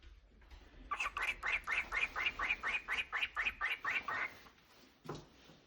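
A pet bird chirps indoors in a rapid, even series of about a dozen bright repeated notes close to the listener, followed by a single short call after a brief pause, with no talking.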